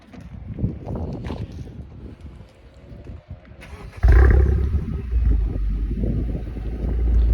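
A Honda Civic Type R engine starts with a burst and settles into a deep, loud rumble that swells as it revs, with wind buffeting the microphone before ignition.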